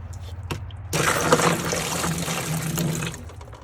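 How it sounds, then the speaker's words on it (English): Cold water pouring from a tap onto ice in a cooler, a steady splashing rush that starts abruptly after a brief knock and runs for a few seconds before cutting off. "when you put it in here, add some water to it, cold water to it."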